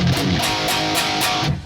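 Muted palm-picked riff on a heavily distorted electric guitar, dense chugging pulses at a steady rhythm, loud and close, ending abruptly after under two seconds.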